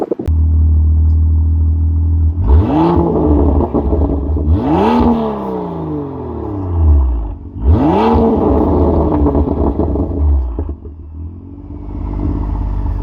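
A BMW M2 fitted with a Milltek exhaust is revved while standing still. Three or four sharp blips rise and fall over a deep idle burble, loud and close, with no talk.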